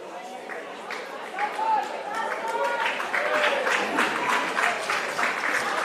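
Warm applause from a crowd at a women's rugby league state carnival match, steady clapping that swells after the first second and holds, with chatter and a commentator's voice talking over it.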